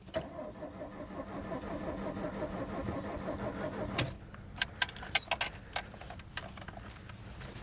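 An old Soviet car engine cranks with a rhythmic, repeated churning for several seconds, then stops, followed by scattered clicks and clunks from inside the vehicle.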